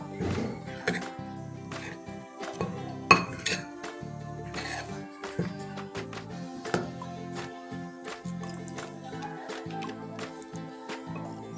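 Clinking of a utensil against a bowl while flour, salt and water are mixed into batter for patisapta pitha, a steady run of light taps and scrapes, close and fairly quiet.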